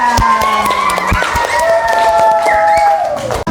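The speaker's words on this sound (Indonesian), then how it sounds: "Oke, tepuk tangan untuk kita semua." A class of schoolchildren claps in a brief burst of sharp, rhythmic hand claps. Their voices ring out over the clapping.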